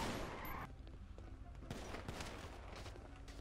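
Gunfire in GTA 5 roleplay during a shootout: a quiet, rapid crackle of shots, with a denser burst at the start and then scattered reports that keep going to the end.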